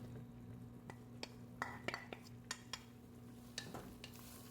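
Pansit miki noodles with carrot and baguio beans stirred in a pan, faint scattered clinks and scrapes of a utensil against the pan over a low steady hum, close and quiet.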